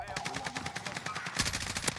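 Rapid bursts of gunfire in Call of Duty: Warzone, a quick run of shots followed by a louder, denser cluster, fairly faint overall with no talk over it.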